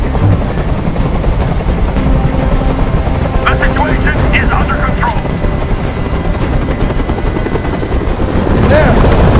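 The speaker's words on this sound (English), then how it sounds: "Tell that helicopter to get out of here!" Steady helicopter rotor drone from the video game Detroit: Become Human fills the whole clip, loud and continuous, with a shouted voice over it partway through.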